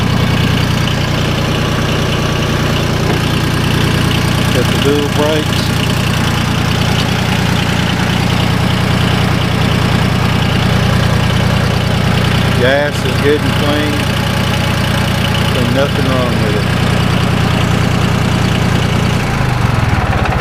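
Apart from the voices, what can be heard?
John Deere 850 diesel tractor engine idling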